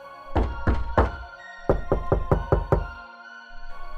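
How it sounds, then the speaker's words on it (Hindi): Hard knocks on a wooden door come in bursts, three raps, a pause, then six quicker raps, close and loud against a faint background drone, with no voices. "रुक रुक के बार बार दरवाजा खटखट होने की आवाज प्रीति के कानों में गूंज रहा था"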